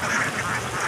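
Javanese laying ducks quack loudly and continuously, a dense chorus of about 300 birds close by, after bathing in a river.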